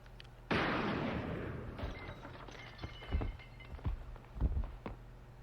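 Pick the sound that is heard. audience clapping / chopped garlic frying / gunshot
gunshot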